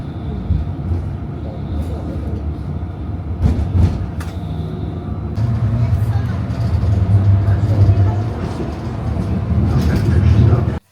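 A tram arrives at a stop in wet weather, a low rumbling hum that grows louder and steadier over several seconds, with a person speaking over it and scattered clunks and street noise.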